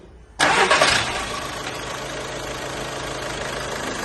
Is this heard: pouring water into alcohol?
no